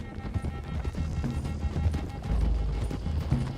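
Several horses gallop in Red Dead Redemption 2, with heavy rhythmic hoofbeats and low rumbling thuds close up and a brief whinny, continuous and loud throughout.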